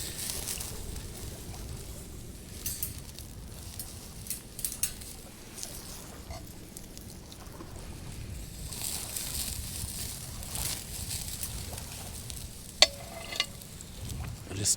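Food sizzles and crackles on a grill grate over an outdoor campfire, a steady close frying hiss with scattered pops and small knocks, no voices.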